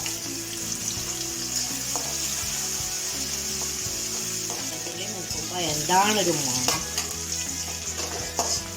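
Oil sizzles steadily in a pan on low flame while garlic and curry leaves are stirred and scraped, and a voice briefly speaks over the crackling fry.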